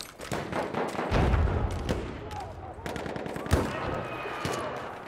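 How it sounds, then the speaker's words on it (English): Rapid machine gun bursts rattle close and loud in the video game Battlefield 1, with a sustained volley followed by scattered single cracks and distant shots. "Machine gun! Watch it!"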